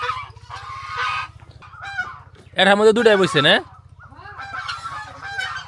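Ducks and chickens are fed rice and bran, with a loud burst of honking quacks from the birds in the middle between stretches of talk, over a steady low hum.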